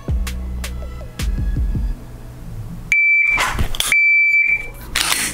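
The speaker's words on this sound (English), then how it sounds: "The beep is gonna go off in 2 seconds." Electronic shot timer used for dry fire practice in a range-gear setup gives loud, sustained beeps of about a second, two tones in close succession, after quieter handling noises and clicks.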